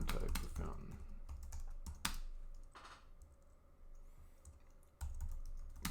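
Typing on a computer keyboard while writing a code comment in a text editor, quiet uneven clusters of close key taps with short pauses.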